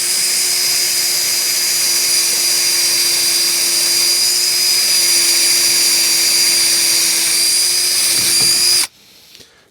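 A power drill fitted with a tape-marked bit bores a screw hole about half an inch deep into a truck, a loud steady high whine held for about nine seconds before it stops abruptly, with a few faint clinks after.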